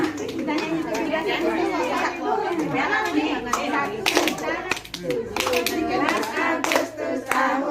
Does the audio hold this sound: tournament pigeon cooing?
no